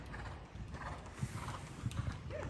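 A horse's hooves thud rhythmically on footing while it is ridden in an arena, with several soft clip-clop beats at a moderate distance over faint mechanical creaks and background noise.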